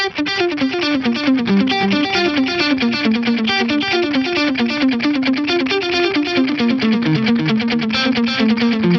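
A distorted electric guitar lead through a Bogner Ecstasy amp model, played with a dotted-eighth vintage digital delay so each note is echoed in a rhythmic cascade. It is loud and continuous, with no talking.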